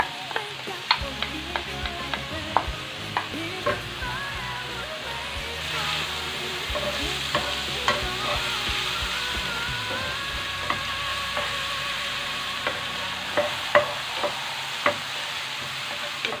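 Mushrooms and garlic sizzle steadily in a pan while being stirred, with recurring scrapes and taps of the utensil across the continuous frying hiss.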